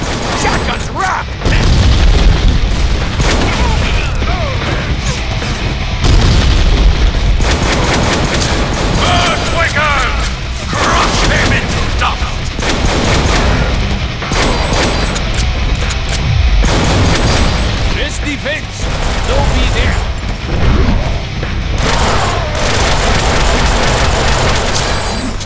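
Shotgun blasts in the Deadpool video game, loud repeated booming shots in rapid bursts amid dense game action, with voices talking over the gunfire.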